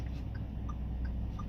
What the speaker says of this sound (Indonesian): jadi ini adalah suara lampu sen